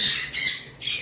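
Three shrill, harsh squawks from lovebirds sound close by in quick succession, with brief pauses between them.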